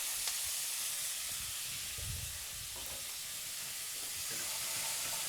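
Onions caramelising in a pan give a steady, soft sizzling hiss that holds without a break, with faint low bumps of stirring underneath.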